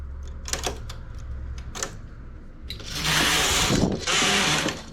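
A knitting machine carriage slides across the needle bed in two rushing, clattering passes, preceded by lighter mechanical clicks and ticks, close and fairly loud.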